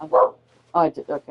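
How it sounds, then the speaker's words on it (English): A pet dog barks close by in a home, one sharp bark followed by a quick string of three or four shorter yips, with a person speaking briefly in between. "Sorry, that's my dog."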